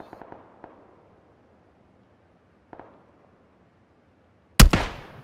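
A K98K bolt-action rifle shot in PUBG lands as a single sharp, loud crack with a ringing decay near the end, preceded by a few faint distant pops.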